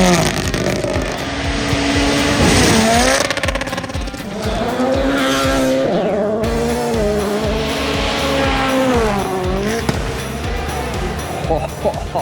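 WRC rally cars at Rally Finland blast past near a spectator grandstand, loud roaring engines rising and falling in pitch as they rocket through one after another, with people talking over the noise.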